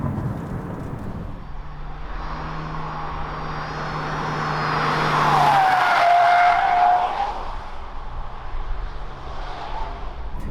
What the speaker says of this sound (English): I'm hearing more noise coming from the bottom rather than from the windshield